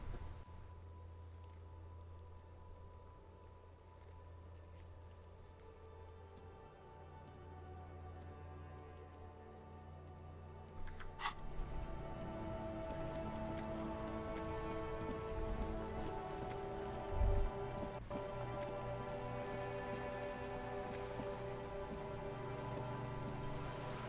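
Rain falls steadily in the video game Disco Elysium, soft at first and then heavier and denser, with a few sharp knocks over the constant patter and low rumble.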